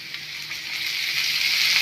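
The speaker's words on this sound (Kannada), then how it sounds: "1 ಸ್ಪೂನ್ ಆಗೋಷ್ಟು ಹಾಕ್ಬಿಟ್ಟು ಚೆನ್ನಾಗಿ ಇದನ್ನು ಕೂಡ ಈ ರೀತಿಯಾಗಿ ಹುರ್ಕೊಳ್ಳಿ ಎಲ್ಲ" Mixed leafy greens frying in cooking oil give off a steady, bright sizzle that builds slightly in loudness over a couple of seconds, heard close up with no voices.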